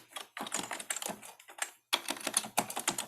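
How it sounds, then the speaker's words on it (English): Computer keyboard typing, close and clear, with quick bursts of keystrokes separated by short pauses. "Let me type this."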